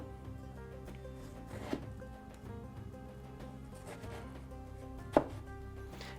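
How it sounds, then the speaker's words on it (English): A knife cuts tomato slices lengthwise into strips for tabbouleh, giving two or three soft, brief chops over a steady background of music. "you can go back through them lengthwise and cut them into strips"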